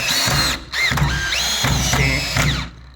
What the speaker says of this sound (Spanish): ya hemos puesto los tornillos de arriba y ahora los tornillos de abajo